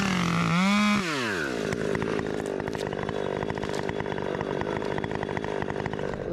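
A chainsaw cutting up a large fir tree among heavy brush, loud and close: a rising rev at the start, then a sustained, slightly fluctuating buzzing roar as the chain bites through wood, with no talking.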